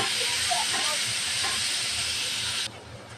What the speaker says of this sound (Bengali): এই তেলের ভিতরে দিয়ে দেবো পেঁয়াজ কুচি আর মরিচ খালি পেঁয়াজটা ভালোভাবে ভেজে নেব